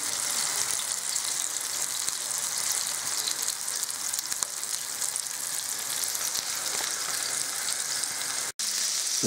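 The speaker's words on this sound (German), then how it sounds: "So, meine Buletten sind in der Pfanne." Buletten (German meat patties) fry in pans, eight in a large one and one in a small one, giving a loud, steady, close sizzle that runs unbroken with no voices.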